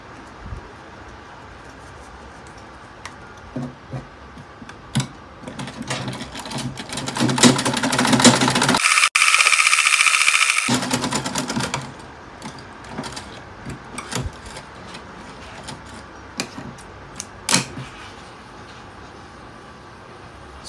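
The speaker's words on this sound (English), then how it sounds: "I'm going to run a straight stitch, a loose straight stitch on this lace piece" Sewing machine stitching a loose straight seam on a lace piece for flare sleeves, in short bursts that build to a fast sustained whir in the middle, with clicks and handling sounds between runs.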